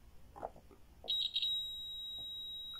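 A multimeter's continuity buzzer sounds during a test of laptop motherboard components, a steady high electronic tone that starts with a couple of quick blips and then holds on, loud and close after some faint handling noise.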